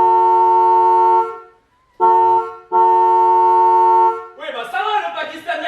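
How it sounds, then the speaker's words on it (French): Car horn blaring in long loud blasts, three sustained honks with brief gaps, followed by a voice speaking. "je vais pas klaxonner toute la vie, non."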